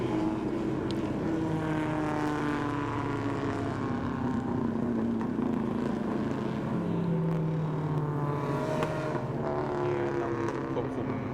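Toyo Tires Explorar racing cars at a Thai race start, several engines droning and revving together in a continuous loud roar with shifting pitches, under a commentator's talk.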